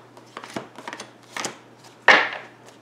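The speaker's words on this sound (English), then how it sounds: "I know I am shuffling so thoroughly." Tarot cards shuffled by hand give a few soft, uneven papery rustles and slaps. One sharper, louder card snap closes the sequence. The sound is close, with no voices.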